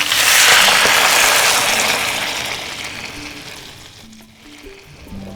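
Water poured into a hot pan with scallion segments, ginger slices and a splash of wine for soy milk fish soup, hissing in a loud burst of sizzling that gradually settles to a softer simmer.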